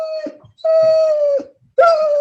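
A dog howls and whines during a municipal urban renewal agency meeting, three drawn-out tonal howls in succession, fairly loud and close, separated by brief pauses.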